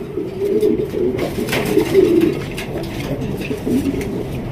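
Low, soft cooing from a male pigeon repeats in a steady rolling rhythm, close by, with faint background noise and no talking.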